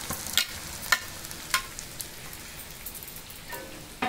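Vegetable fried rice frying on high heat in a pan gives a steady, fairly soft sizzle scattered with sharp crackles and spits, with no voices.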